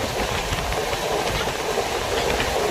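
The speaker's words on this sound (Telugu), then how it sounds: "ఈ లోపల ట్రైన్ వచ్చేసింది, ట్రైన్ ఎక్కేసాం." Inside a fast-moving passenger train, a steady loud rumble with rhythmic wheel clatter on the rails carries on throughout, with no voices.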